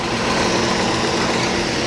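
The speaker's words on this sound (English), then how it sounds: "the Chevy's running good" A Chevy truck engine runs steadily at close range, a loud, even rumble with a constant mechanical drone and no breaks or talking.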